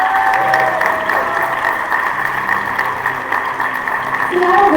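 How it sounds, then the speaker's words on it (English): Audience applause greeting a judge at a live show, a steady wash of clapping with some crowd noise that holds at even strength throughout, with no voices rising above it. "why don't we meet them and give them some applause of their own, shall we?"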